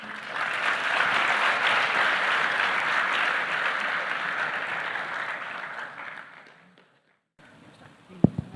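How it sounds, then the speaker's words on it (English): Sustained audience applause at a youth meet, a dense steady roar of clapping lasting about six seconds before fading out, followed by a brief gap and a few faint knocks and thumps. "Let's give these guys a big round of applause"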